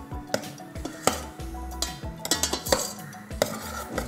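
A spoon stirs cauliflower in a metal pot for cream of cauliflower soup, with repeated clinks and scrapes of utensil against the pot in an uneven rhythm, close and clear, with no talking.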